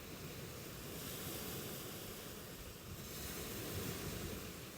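Ocean waves roll onto a beach in an even, continuous wash, with a slight swell near the end and light wind noise, no voices.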